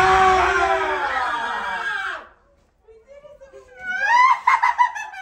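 A man screams loudly in a swamp at night, a long strained yell that cuts off, followed after a pause by another rising shout with laughter-like bursts.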